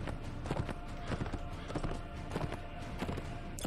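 Horse hooves clip-clop in quick, irregular steady beats in Mount & Blade Imperial Rome, a crippled mount still moving fairly fast, with game battle noise behind and occasional faint speech.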